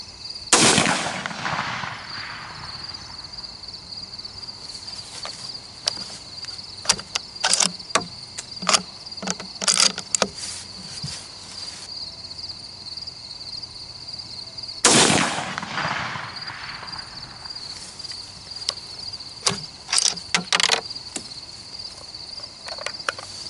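Two sharp 6.5 Grendel rifle shots firing steel-cased ammunition outdoors, about fifteen seconds apart, each a loud crack with a brief decay, while steady insect buzzing carries on in the background.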